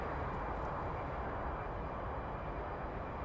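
A-10C jet in a flight simulator game taking off, a steady, broad engine roar holding constant and fairly quiet throughout, with no talk.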